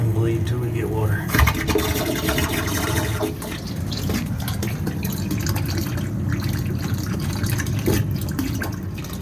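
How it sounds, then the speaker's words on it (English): Air and water sputter and hiss from a pulled plug high on a boiler system's cooling tower, a continuous rushing, gurgling flow that stays loud and steady throughout. "So we're gonna pull it and bleed till we get water."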